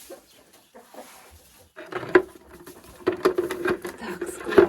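Chickens and roosters cluck and squawk in a sunny farmyard hen run, the calls sparse at first and then livelier and closer, with soft pattering and rustling between them.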